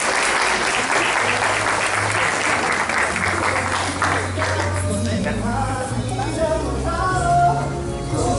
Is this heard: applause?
yes